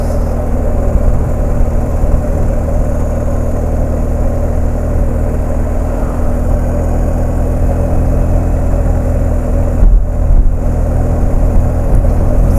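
BMW R 1250 GS motorcycle cruising on the road, a steady loud engine drone with rumbling low end and wind noise, holding an even pace throughout with a brief dip near the end.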